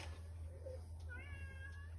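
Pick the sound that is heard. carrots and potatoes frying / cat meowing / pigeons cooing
cat meowing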